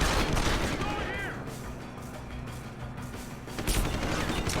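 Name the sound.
gunfire in video game Deus Ex: Human Revolution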